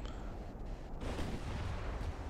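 Naval gunfire from 8-inch guns in Ultimate Admiral: Dreadnoughts, aimed at 1910 battleships: a steady low rumble of distant guns firing for about two seconds, with no one talking.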